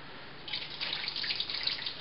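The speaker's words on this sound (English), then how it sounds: "What we're going to do now is we're going to dump the water." Water tinted with Kool-Aid dye pours into a kitchen sink, a soft, steady splashing and trickling stream, quiet and close, with no voices.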